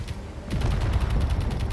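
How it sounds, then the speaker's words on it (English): Rapid Gatling gun fire in the space combat game Space Engineers, a dense burst of close, loud shots rattling continuously after a brief quieter lead-in, with no voices. "those Gatling gun shots were very close to me"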